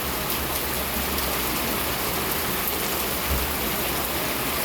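Heavy monsoon rain pours steadily in Dukki, Pakistan, a dense, constant roar of water with no pauses.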